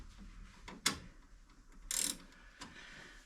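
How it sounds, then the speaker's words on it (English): A ratchet wrench works on a classic Mini build with a Rover K-Series engine, giving quiet close mechanical clicks, one sharp clank, and a brief rasping burst of ratcheting near the middle. "Every time you put these ratchets on, Mark, I guarantee you do it the wrong way"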